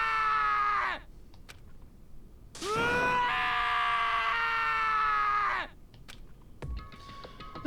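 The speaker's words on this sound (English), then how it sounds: "As Sagasat screams invaded our skulls, we were each forced to realize once again" A video game character from Danganronpa screams during an execution scene, two long, strained harmonic cries each lasting a few seconds with a brief gap between, loud and close.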